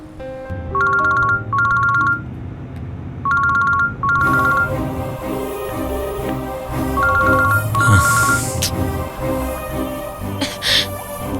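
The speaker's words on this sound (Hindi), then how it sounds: "उसे फोन कर रही हूँ" A phone ringtone plays in repeated bursts while the call goes unanswered, clear and close at first, then continuing under a busier background of movement and faint voices.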